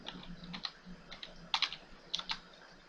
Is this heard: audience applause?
no